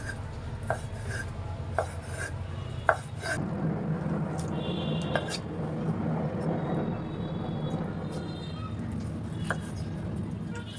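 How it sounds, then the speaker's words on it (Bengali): A knife chops chicken breast into small pieces on a board, with several distinct sharp taps in the first few seconds, then a steady low hum and rumble dominating as cutting continues faintly underneath. "এই মাংসগুলোকে আমি একদম ছোট ছোট করে পিস করে নেব"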